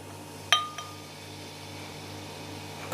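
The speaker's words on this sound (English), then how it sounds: "I'm going to pour another beer in here" A St. Austell beer glass gives one sharp clink followed by a fainter second tap, set against a quiet background hum; the pour itself is barely audible.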